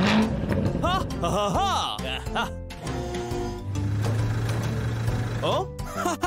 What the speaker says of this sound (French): Écoutons le rugissement de ton moteur